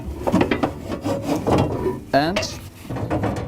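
A plastic remover box slides and scrapes out of a 3D printer cleaning station in a short series of close rubbing and knocking sounds, with a sharp squeak midway and someone talking briefly.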